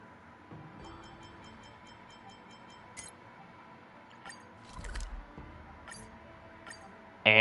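Inside the train in the video game Honkai Star Rail, a quiet, steady rumble runs underneath. Faint, rhythmic glassy clinks repeat over it, and a short, louder burst of noise comes at the very end.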